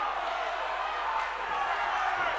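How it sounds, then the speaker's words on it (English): Boxing crowd inside the Winter Gardens arena, a dense, steady wash of cheering and shouting at a fairly even level, heard briefly with no clear peaks. "the crowd responds to this onslaught"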